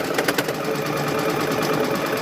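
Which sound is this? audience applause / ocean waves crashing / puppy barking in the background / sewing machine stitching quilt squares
sewing machine stitching quilt squares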